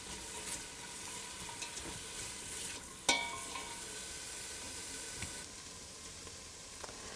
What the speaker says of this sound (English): Stir to make sure that they are well coated with the butter, and cook them for about 5 minutes without browning them